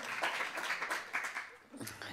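Applause from a seated audience at an Estonian health conference on men's longevity, heard as a steady wash of clapping that dips briefly before picking up again toward the end.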